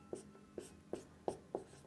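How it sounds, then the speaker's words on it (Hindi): A pen writes a definition by hand on paper in a geometry lesson on circles, giving five quick, soft scratching strokes in a steady rhythm, close and quiet with no talk. "तो यहाँ पे इसका डेफिनेशन लिखेंगे"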